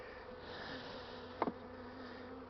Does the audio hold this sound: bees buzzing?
yes